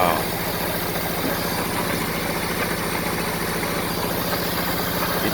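A first-series Honda Civic with a carburetor idles steadily up close, its low, even engine pulse running without a break and with no voices over it.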